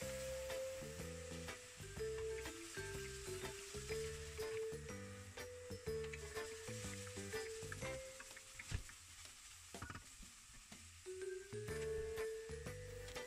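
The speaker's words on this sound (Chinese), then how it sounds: "准备一口锅，加橄榄油，下菠菜翻炒，再加大蒜、" Spinach, garlic, sage and diced apricot stir-fried in olive oil in a pan, giving a steady sizzle and scraping stir beneath loud background music throughout.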